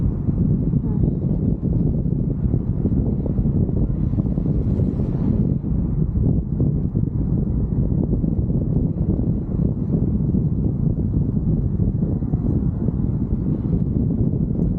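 Strong wind buffets the microphone continuously during a paragliding flight over Bozdağ, Ödemiş, a loud low rumble with no pauses, while people talk faintly beneath it.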